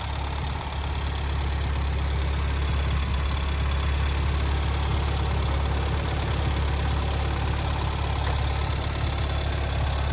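A 1990 Renault 5 GT Turbo engine idles steadily under an open bonnet, a close, continuous low rumble with an even mechanical hum and no other sounds throughout.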